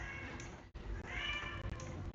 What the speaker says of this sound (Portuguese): minha gata.